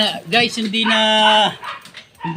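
A dog barks and whines up close, one drawn-out, howling note between shorter yelps.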